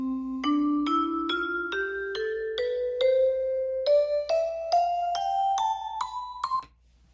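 A two-octave major scale rises note by note in even steps on a clean, electronic-sounding instrument, a single line of evenly spaced tones with no talking.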